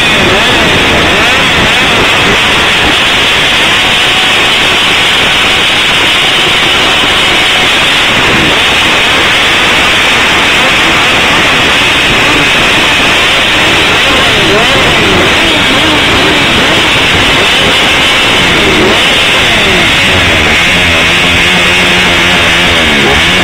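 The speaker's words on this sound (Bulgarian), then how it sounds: "Запалете и аплодирайте с вашия шум на мотора" At a motorcycle rally in Kraimorie, many motorcycle engines rev together as applause, a dense, loud, continuous roar of mixed engines with crowd noise underneath.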